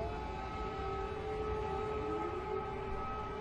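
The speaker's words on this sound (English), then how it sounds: "Air raid sirens ring out." Air raid sirens wail on a news broadcast, sustained steady tones held under a faint hiss with a slight pitch bend near the end, sounding somewhat distant.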